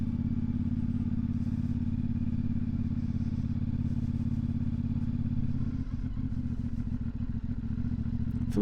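CFMoto 450MT motorcycle riding on a road, its engine a steady low drone heard close with wind, turning rougher and bumpier toward the end, no talking.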